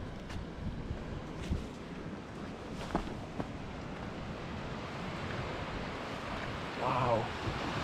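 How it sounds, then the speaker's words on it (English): North Sea waves surging against rocks on the wild St Cyrus coast in Scotland, a steady rushing wash with wind buffeting the microphone and a louder surge near the end, under occasional speech. "The water's just surging in at this far side of these rocks."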